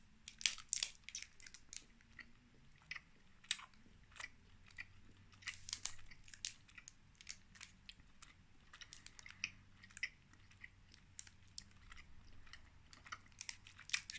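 Someone chews an Oor Wullie Irn Bru chew bar with a sherbet centre. Close, moist crunching and sticky bites repeat irregularly for about fourteen seconds, quiet and alone.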